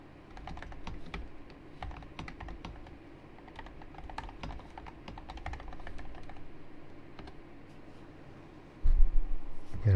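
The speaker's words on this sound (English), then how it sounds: "I'm trying to type a whole lot of stuff" Fingers type steadily on a computer keyboard, a close, fairly quiet stream of irregular key clicks and taps, with a louder thumping burst near the end.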